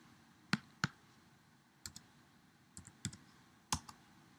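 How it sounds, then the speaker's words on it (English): Several sharp, separate keystrokes on a computer keyboard, close and clear in a quiet room, as numbers are typed and the Return key is pressed, spaced irregularly over a few seconds. "Type the numbers in directly and click the Return key."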